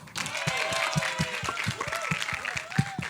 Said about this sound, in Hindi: स्वागत है आपका सर्कस के ट्रेलर लॉन्च में। तालियां।